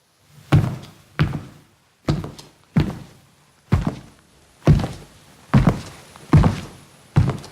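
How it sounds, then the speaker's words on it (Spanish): Layered foley footsteps for a heavy creature, including bare feet, land as nine separate weighty thuds at an uneven walking pace, close and loud against silence. "lo que le dio el touch del peso es esto último, que son pies descalzos"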